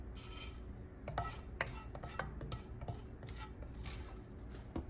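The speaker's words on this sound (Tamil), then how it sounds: "முதல்ல இந்த எள்ளை நம்ம வந்து லைட்டாக பொரிச்சு எடுத்துக்க போகிறோம்." Sesame seeds roasting in a few drops of oil in a pan, heard as faint scraping and light clinking of a utensil stirring against metal, quiet irregular scratches and taps with no talking.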